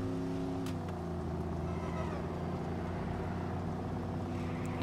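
Car engine droning steadily in the video game Watch Dogs, a constant low rumble with faint revving that holds through the whole stretch without pause, no talk over it.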